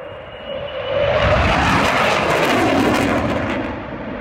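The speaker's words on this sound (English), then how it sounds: "This fighter jet's doing a tight turn over the crowd." A fighter jet roars overhead in a tight turn over a crowd, its engine noise swelling loudly over a few seconds and then easing off slightly, with no voices.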